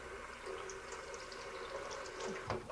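Water running from a kitchen tap while a potato is rinsed and scrubbed, a faint, steady splashing stream with small handling noises and a brief louder splash near the end.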